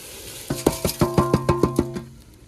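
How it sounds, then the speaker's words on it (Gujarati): Mixed dry lentils pour into a pot of hot water, giving a quick run of about eight bright, ringing clatters against the metal, close and fairly loud, then fading. "તો આ બધી દાળ આપણે પાણીમાં નાખી દઈશું."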